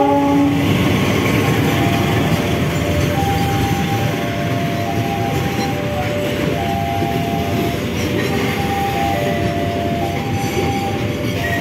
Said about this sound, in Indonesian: Lokomotif dinas CC20632, depo induk Sidotopo.